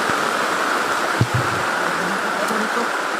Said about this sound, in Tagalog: Ang lakas ng ulan tol oh.